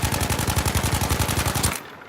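Rapid automatic assault rifle fire from Battlefield V Firestorm, a steady burst of about twenty evenly spaced shots over nearly two seconds, loud and close, then stopping abruptly into quiet.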